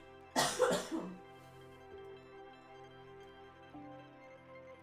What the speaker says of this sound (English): She's just coughing